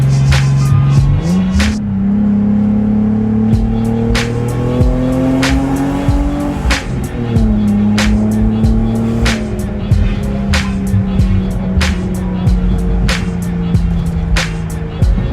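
A Lexus GS300 accelerates hard, its engine note climbing steadily in pitch through a gear change, loud and close from inside the car, with no talking.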